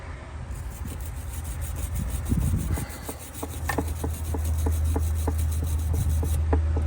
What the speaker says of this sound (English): Try not to wire brush my skin because that would hurt.